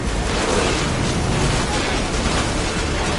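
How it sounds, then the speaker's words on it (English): In the Assassin's Creed Odyssey video game, cannon arrows pound a ship in a naval battle, making a dense, loud roar of booms and crashing impacts that runs continuously. "Watch those cannon arrows!"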